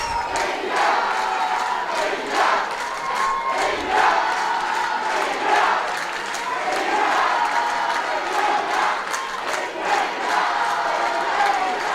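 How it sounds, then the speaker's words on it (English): Hockey fans cheer inside a stadium during a match, a steady roar of crowd noise with shouts and whistles rising and falling throughout, without any clear single voice standing out. "You can hear the fans cheering"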